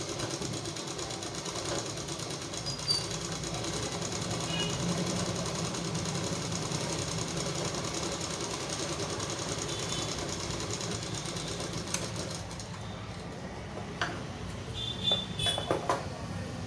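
A sewing machine running continuously during a beginner tailoring lesson, sewing vertical stitch lines on fabric with a steady, fast, close-up mechanical whir and rhythmic needle clatter throughout, and a few small clicks near the end.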